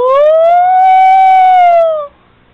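A voice imitates a fire siren as a vocal warm-up, one loud sustained hum that slides up from a low note, holds, then dips and cuts off, heard alone.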